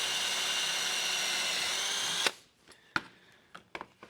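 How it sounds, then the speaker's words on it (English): A power drill whines loudly and steadily through three thicknesses of sheet metal for about two seconds, then stops, followed by a few sharp metallic clicks and knocks. "So we're going to go ahead and drill these holes while we're right here,"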